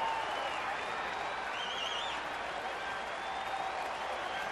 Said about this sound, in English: Now the crowd's starting to get behind David Hernandez.